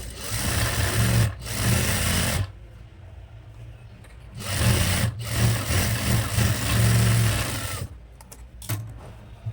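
A sewing machine stitches a frock nighty in two long running bursts, separated by short pauses and brief handling noises, close and steady.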